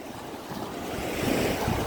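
Calm Baltic Sea waves on the shore at Gdynia Orłowo, a soft surf wash rising gently toward the end, with some wind buffeting the microphone.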